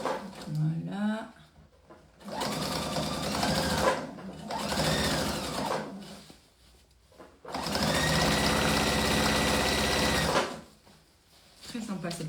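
A sewing machine topstitches black thread along a backpack in three loud bursts of buzzing stitching separated by pauses, with a voice speaking in the gaps and briefly over the machine.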